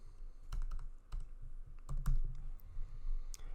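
Keys tapping on a computer keyboard while text is entered in a design app, a scattered run of close, crisp clicks with short pauses between keystrokes.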